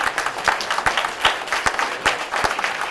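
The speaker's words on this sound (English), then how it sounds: "give her a round of applause as she comes" A school audience claps for a student, with scattered, fairly close hand claps forming a light, uneven patter over a few seconds.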